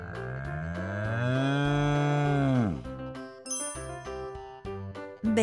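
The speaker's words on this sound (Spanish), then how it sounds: "Papá toro." A bull gives a long, deep moo that swells and falls over a bouncy, chiming musical backing, followed by light plinking melody.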